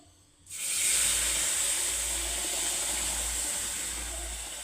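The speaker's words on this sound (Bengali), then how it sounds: "এখন আমি এখানে দিয়ে দেবো দুধ।" Milk hits frying rice in a pan while payesh is made, setting off a sudden loud, steady steaming hiss that keeps going for several seconds and slowly fades. No one talks.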